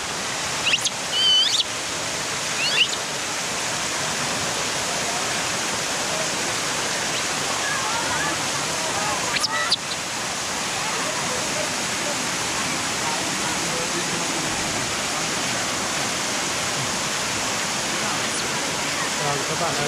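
A large, famous waterfall in Vietnam roars as steady broadband rushing water, loud and constant throughout, with brief faint sounds near the start and a few soft knocks.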